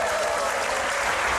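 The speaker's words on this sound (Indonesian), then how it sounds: "Tepuk tangan." Studio audience at an Indonesian TV talk show bursts into dense, sustained applause, loud and even with no talk over it.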